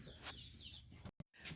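Chickens cluck and squawk nearby in a brief, quiet burst of a few calls, broken by a moment of silence.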